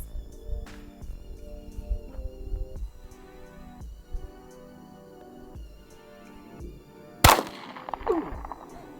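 A single sharp, loud .45 pistol shot fired at soft body armor cracks out near the end, followed by a brief ringing decay, after several seconds of quieter background noise.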